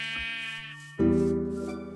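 Sheep in the video game Minecraft bleat, a nasal tonal wavering call followed by a second louder, lower bleat that holds for about a second, heard alone and close.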